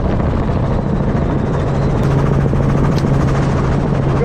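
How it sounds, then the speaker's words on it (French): A helicopter flies close overhead during a veterinary internship in South Africa, its rotor thumping as a loud, continuous drone with a steady low hum and no pauses. "on l'a fait depuis un hélicoptère"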